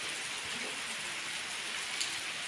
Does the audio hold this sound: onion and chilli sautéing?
no